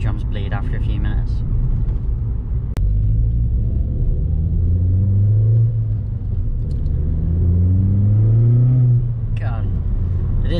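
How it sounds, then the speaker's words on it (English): A VW Polo GTI 9N3 with a turbocharged engine accelerating on the road, its exhaust rumbling and rising in pitch through gear changes, heard from inside the car beneath occasional talk. "the exhaust is the perfect level where you can hear it"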